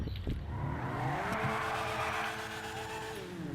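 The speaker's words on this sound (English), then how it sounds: "I really like the engine sound" A Grotti Stinger GT Sports Classic engine in GTA V revs up and holds a steady, rising drone, its tone climbing smoothly and then sustaining, loud and close with no voices.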